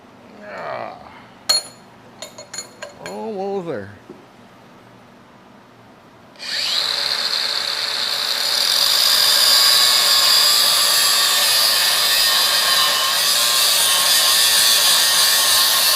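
At a forge, a loud power tool cuts into metal, running with a continuous high grinding whine after a few sharp clanks and scrapes of handling.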